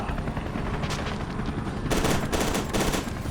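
Gunfire in the video game F.E.A.R. 2, with a loud burst of rapid shots in quick succession after a quieter stretch, close and without speech.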